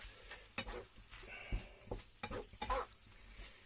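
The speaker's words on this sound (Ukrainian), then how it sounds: "22 хвилини смажилося. и перемешиваем." Metal utensil scraping and stirring potatoes frying in a steel honeycomb-coated non-stick pan, soft sizzle underneath, several uneven strokes close by, no talking.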